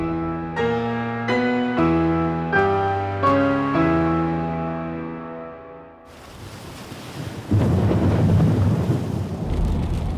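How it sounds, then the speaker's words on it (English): After a passage of plucked, piano-like music, a storm strikes a construction site at South Ferry in New York City, where torrential rain and high winds build into a loud, dense roar. "the full force of the storm hits New York City. Torrential rain and high winds lash the site."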